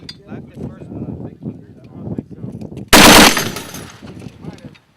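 A .50 caliber machine gun fires one loud, short, close burst that rings off over about a second, after several seconds of voices talking.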